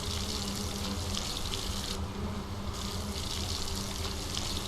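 Steady broadband rush of running water, like a tap or stream pouring continuously, loud and close with no pauses, as water is collected from a lake in a video game.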